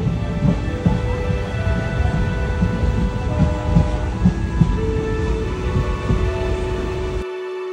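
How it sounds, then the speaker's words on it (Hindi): A passenger train in India, heard from a seat inside the carriage, rumbles and clatters as it moves, with a loud, steady low roar, faint tonal whines on top, and a sudden cut near the end. "और जा रहे हैं, ट्रेन खुल चुकी है।"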